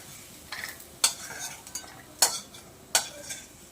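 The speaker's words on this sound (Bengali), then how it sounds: "আমি এগুলি তুলে নিচ্ছি।" Fried ginger pieces are lifted out of a pan with a metal utensil, giving four or five sharp clinks and scrapes at irregular intervals over a faint background sizzle, with no talking.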